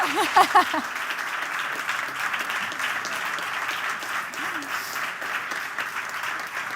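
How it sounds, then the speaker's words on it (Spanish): Applause at a tenth-anniversary celebration event, a crowd clapping in a steady wash for several seconds, with a brief voice heard at the start over it. "pido un aplauso enorme para vosotros y para ellos"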